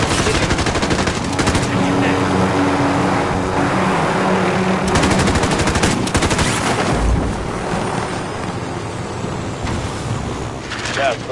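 Gunfire in a PS4 video game: loud, dense bursts of shots and booming impacts pile into a near-continuous roar, easing off slightly toward the end.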